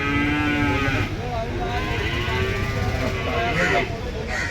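Buffaloes at a livestock market low and moo with drawn-out calls close by, over a steady crowded din of voices and activity.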